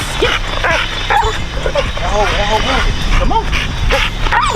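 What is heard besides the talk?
working dog barking at a spring pole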